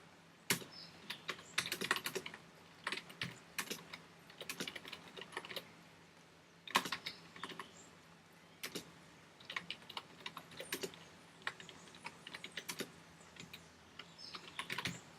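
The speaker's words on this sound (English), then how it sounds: "I'm gonna type some of the words here." Typing on a computer keyboard, with irregular bursts of close, crisp key clicks separated by short pauses, fairly quiet and without voices.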